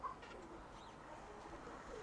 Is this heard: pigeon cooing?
yes